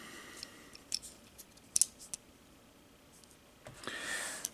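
Stiff plastic pieces of a Studio 86 Bumblebee robot toy being folded in, giving a few sharp close clicks and snaps spread over a quiet stretch, then a brief scraping rustle near the end.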